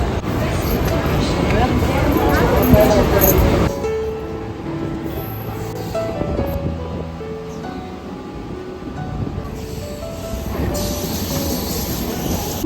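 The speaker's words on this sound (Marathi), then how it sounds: "हे बघा ट्रेन आले चला जाऊया आता" Loud rumble of a train pulling into a platform near Nala Sopara, easing to a lower clattering hum with faint squeals, while people talk nearby.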